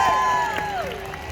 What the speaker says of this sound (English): Get the kids to cheer!